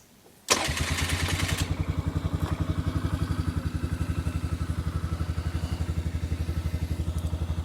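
A cold-weather ATV on a new battery cranks briefly and fires up almost at once, then settles into a steady, close, rapid idle chug that continues to the end.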